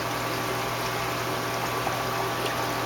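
A Santa Monica Filtration HOG1 algae scrubber in an aquarium gives a steady, close wash of bubbling and flowing water with no pauses, like a constant low simmer.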